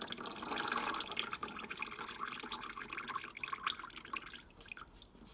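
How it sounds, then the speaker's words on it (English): Engine oil drips from the drain of a 2013 Nissan Micra during an oil change, a faint irregular patter of small drops landing close by, with no voices over it. "Some oil will drip from there as well."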